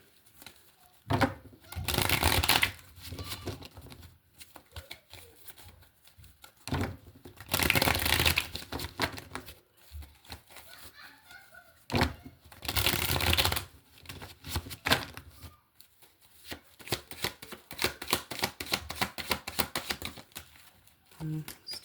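Deck of cards shuffled during a tarot-style reading, several crisp riffling bursts of a few seconds each separated by pauses, close and clear, followed by lighter card handling and tapping.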